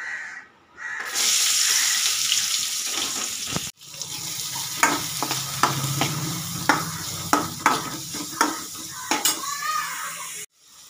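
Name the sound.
chicken frying in pan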